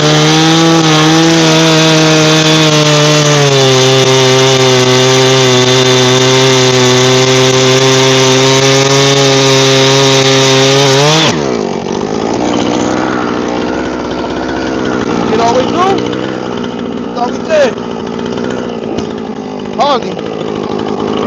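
A Husqvarna chainsaw cuts logs, its engine roaring loud and steady for about eleven seconds, then dropping to a lower idle with clanks and a voice talking over it.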